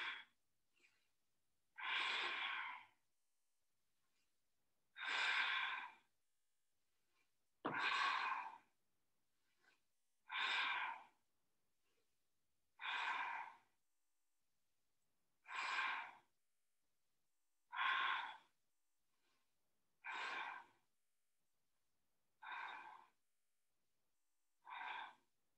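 Slow, steady breaths during a yoga practice with shoulder stand poses, about ten separate inhales and exhales evenly spaced and close, with silent gaps between them and no talking.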